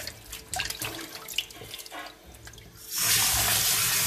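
A kitchen tap starts gushing hard about three seconds in, a loud steady rush of running water following quieter clattering and handling sounds near a sink.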